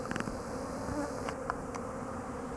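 Honeybees at winter hive entrances give a faint, steady hum that runs continuously, with a few brief sharper buzzes of single bees flying close by.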